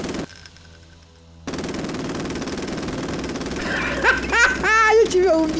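A machine gun in Garry's Mod fires in a sustained rapid burst after a brief quiet start, loud and continuous, with a voice breaking in over the last seconds.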